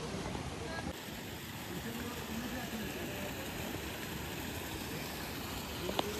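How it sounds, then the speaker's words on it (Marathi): Flowing stream water near Kondeshwar Temple at Jambavali, Kamshet near Pune, a steady broadband rush that continues without pause for the whole stretch, with a small knock near the end. "इकडे वाहणारं पाणी आहे एकदम मस्त"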